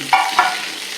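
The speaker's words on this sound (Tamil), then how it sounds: "இப்போ நம்ம வெங்காயத்தை போடப்படும்" Onions with curry leaves sizzle in a pan, with two quick scraping stir strokes over a low steady frying hiss, close up and without speech.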